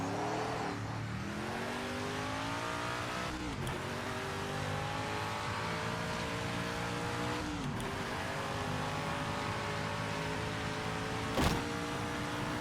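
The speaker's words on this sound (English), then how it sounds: "So the tire sounds are almost a little exaggerated, but I like that." Race car engines from a racing video game roar and whine steadily with gear shifts, tires squealing in exaggerated bursts, with a few sharp clicks.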